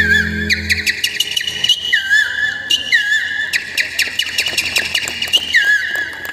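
A voice whistles an imitation of a kingfisher's call in a series of sharp, rising whistled chirps repeated through the clip. The calls sound close and fairly loud, over a dense background of other sounds.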